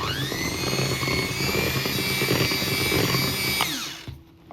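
Electric hand beater whirring steadily through sponge cake batter with oil added, a loud continuous motor whine that winds down and stops near the end.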